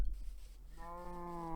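A single Minecraft sheep gives a drawn-out bleat, a nasal wavering call near and fairly quiet after a moment of soft background noise.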